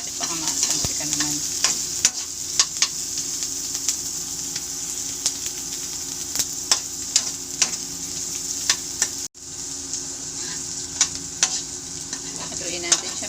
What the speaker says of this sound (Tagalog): Haluin natin siya para lutong-luto.